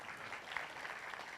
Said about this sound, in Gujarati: આપણે સૌ કસબીઓનું તાળીઓથી સ્વાગત કરીશું.